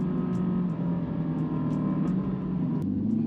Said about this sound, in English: I can clearly hear that there's a motorcycle behind and offset to me